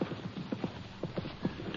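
Horse hoofbeats clip-clop in a radio western drama, a steady, moderately loud rhythm of hooves striking ground at a walking pace with no voices over them.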